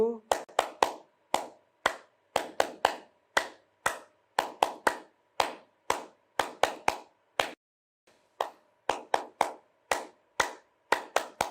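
Group hand clapping during a morning yoga exercise, crisp claps in a steady rhythmic pattern of short runs with brief gaps, close and distinct.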